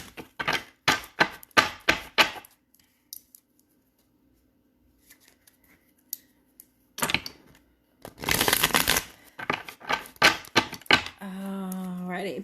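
A tarot deck is shuffled in quick bursts of papery riffles and taps, pausing in near silence before louder rapid shuffling resumes, ending with a brief voiced sound.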